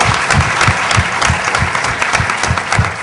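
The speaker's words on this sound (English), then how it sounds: "Come on, a big round of applause for Talim AC." An audience at a conference applauds loudly and steadily, a dense wash of clapping hands that holds throughout without letting up.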